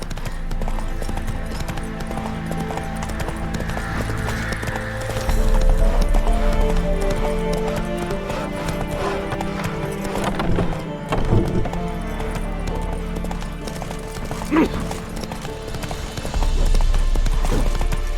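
Geralt's horse Roach gallops in The Witcher 3, with steady, rhythmic clip-clop hoofbeats, a brief whinny, and game music and ambience underneath, close and loud throughout.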